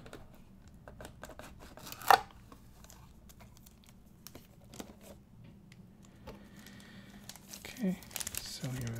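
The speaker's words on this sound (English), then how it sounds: "Here we have the tablet itself, nice plastic, so I'll try to get this out without making too much noise." Acer Chromebook Tab 10 tablet pulled from its plastic packaging, with soft crinkling and scattered light rustles, a sharp crackle near the start and another burst toward the end, close and fairly quiet.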